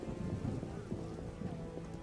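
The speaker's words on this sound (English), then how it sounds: "How sad when it rains." Rain falling in The Witcher video game, a soft, steady patter with low rumbling underneath that stays even and quiet for two seconds.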